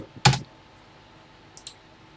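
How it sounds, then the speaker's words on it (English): Typing on a computer keyboard while entering a short TI-99/4A BASIC program in the Classic99 emulator: one loud burst of keystrokes near the start, then two faint taps later, with quiet between. "start typing"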